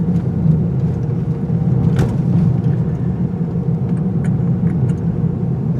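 A 2017 Volvo S90 T6 on Pirelli tires driven hard around a turning circle, its engine and road rumble a steady, loud drone throughout with a brief sharper burst near the middle.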